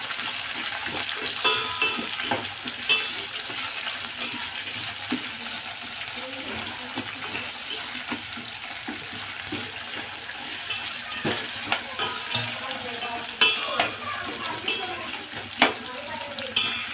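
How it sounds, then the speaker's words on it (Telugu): Onions fry and get stirred in a pan while tomato rasam is cooked, giving a steady soft sizzle with scattered scraping and clinking of the utensil against the pan throughout. "ఉల్లిపాయలు కూడా కొంచెం వేగాలన్నమాట."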